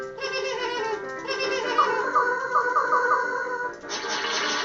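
A duck in the game Trollface Quest 2 quacks in a steady run of nasal, buzzy calls with a wavering tone, clear and continuous, with no talking.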